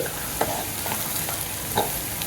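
Chicken curry with curry leaves and ginger garlic paste being stirred in a pan over a gas cylinder stove, a steady sizzle with a few brief scraping strokes of the spoon, close and alone.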